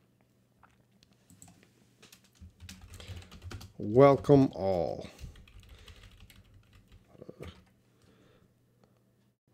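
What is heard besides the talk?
typing on a computer keyboard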